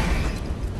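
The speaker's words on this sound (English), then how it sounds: "Explosion!" A dense, loud burst of noise fills the short clip as an explosion goes off in the video game Godfall, with a dull boom sustained throughout.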